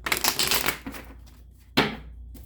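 Two quick bursts of tarot cards being riffled and snapped together, close up, with a short quiet gap between them.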